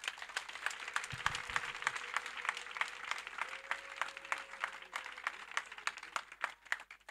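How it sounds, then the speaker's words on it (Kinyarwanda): A church congregation applauds with steady, dense clapping that continues throughout, heard fairly faintly at a distance, with a brief low tone underneath. "duhereze Imana amashyi menshi"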